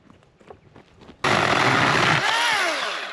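Chainsaw cutting firewood at a roadside in the New South Wales outback: after a quiet start, the saw roars in abruptly, loud and close, and runs steadily before easing down toward the end.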